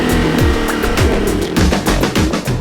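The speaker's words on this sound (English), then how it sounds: "The team pushes the engine to redline, individually testing each Viper engine" A Dodge Viper V10 engine, rated 645 horsepower, revving hard toward redline on a test stand, loud and close, with repeated sweeping rises and drops in pitch in quick succession.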